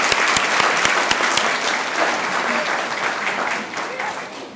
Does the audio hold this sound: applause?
yes